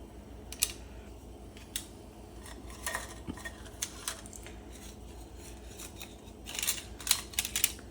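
Lasagna noodle pieces of mixed sizes dropped one by one into a pot of lasagna soup, giving faint scattered clinks and soft taps with small rustles, quiet and close, no talking.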